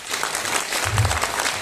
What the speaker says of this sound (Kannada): ದಯವಿಟ್ಟು ಚಪ್ಪಾಳೆ ಹೊಡಿರಿ ಅವರಿಗೆ.